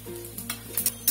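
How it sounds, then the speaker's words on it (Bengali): Bay leaf and dried chillies stirred in a hot pan for a vegetarian Bengali dish, a few quick scraping strokes over a faint sizzle and low steady hum, each stroke brief and close. "একটু নাড়াচাড়া দিয়ে নিচ্ছি তেজপাতা আর শুকনো লঙ্কাগুলো।"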